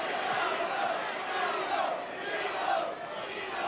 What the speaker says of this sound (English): the crowd are chanting, which is Crombie's nickname